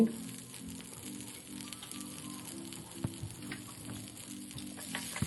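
Onion, cinnamon, clove, a small piece of ginger and garlic fry in a spoonful of oil in a pan, giving a steady soft sizzle with a faint rhythmic scraping pulse underneath, no voices.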